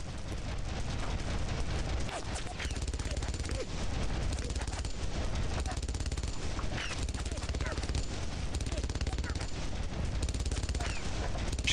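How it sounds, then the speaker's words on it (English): Dense, continuous machine-gun fire rattles without letup in the World War II shooter Brothers in Arms: Road to Hill 30, with bursts of gunfire and blasts layered throughout at close range and someone talking over the din. "The MG can't hit me."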